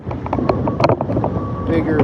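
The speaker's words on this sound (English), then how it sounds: "But it's so windy, everything's blowing around here pretty good" Strong wind blowing outdoors by a trout fishing pond at a Pennsylvania resort, buffeting the microphone with steady rumbling gusts while a voice talks over it.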